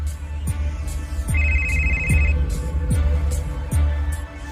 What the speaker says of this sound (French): Et le téléphone de Nathalie va sonner.